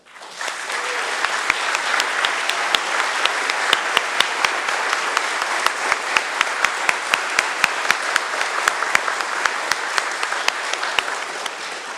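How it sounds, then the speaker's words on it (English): A committee meeting audience claps for volunteers, a dense, sustained round of applause with sharp individual claps standing out, loud and even from start to finish. "please join me in applauding all of the volunteers in attendance tonight"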